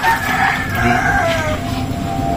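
A rooster crows loudly and close by on a Filipino family's home, its drawn-out cock-a-doodle-doo calls standing out clearly over faint background activity.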